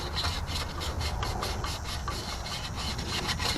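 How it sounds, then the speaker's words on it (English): Sandpaper rubs steadily around the distributor shaft of a Dodge Dakota or Durango 1500 during a cam position sensor repair, making a close, continuous rasping scratch with a quick back-and-forth rhythm and no pauses. "Just putting the sandpaper around the shaft and"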